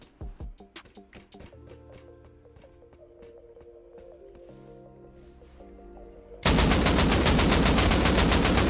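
Gunfire in the video game Rust Console: a few sharp single shots and scattered clicks, then a loud, fast automatic burst of rapid, evenly spaced rounds hammering up close until the end.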